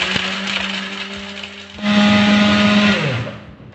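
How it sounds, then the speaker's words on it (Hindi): An electric grinder finely grinding whole spices for nihari masala whirs with a loud, steady motor hum, jumps to a harder, higher-pitched grind partway through, then winds down as it is switched off. "सारे स्पाइसेस इसके अंदर डाल दिए हैं, अब मैं इसको बारीक पीस लूँगी"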